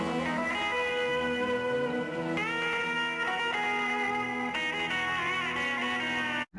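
Electric guitar playing a fast, flowing legato lick, a continuous stream of smoothly connected notes at steady volume for several seconds before cutting off.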